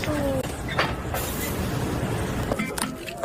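A tourist train rumbles steadily along the rails, with a continuous broadband roar and occasional clicks and clanks from the carriage, heard from inside.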